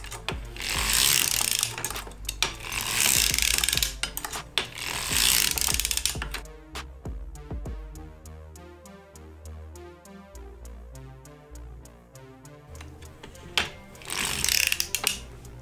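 A 60-stitch circular sock knitting machine is cranked while shaping a shorty heel tab, giving a steady fast mechanical clatter of needles and gears, with a stretch of slower, lighter ticking clicks in the middle.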